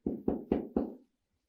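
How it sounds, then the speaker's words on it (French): Four evenly spaced knocks on a house door, firm and close, each with a short hollow ring, followed by silence. "Il tape à sa porte de sa maison."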